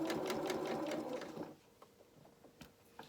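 A sewing machine stitches gathered fabric for a frill, running in a fast rhythmic buzz for about a second and a half, then stopping, followed by a few faint clicks and handling sounds.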